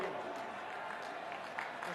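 Applause from the audience at a political rally, a faint, distant wash of clapping that holds steady for two seconds.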